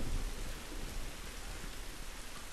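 A heavy rainstorm in The Last of Us, with a low rumble of thunder at the start under a thick, constant hiss of downpour that carries on evenly, and no one speaking.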